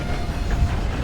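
A train rolls along rails in Red Dead Redemption 2, a steady low rumble with a faint hiss and rattle, close and continuous throughout.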